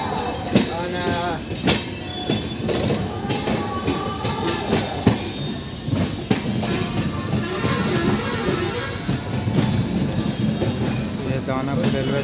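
A train at Danapur railway station rumbles past with clattering wheels and squeals, busy station noise and scattered voices around it.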